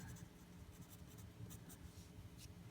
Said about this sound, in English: I'm going to write my name on this while I'm thinking about it.